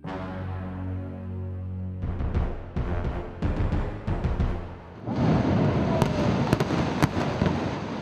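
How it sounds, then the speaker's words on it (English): Explosive demolition of a derelict building in Lagos: a low rumble gives way to a rapid series of sharp blasts and crackles, then a heavy roaring collapse with scattered loud cracks. "Dust settles on the successful demolition of a derelict building to make way for urban renewal."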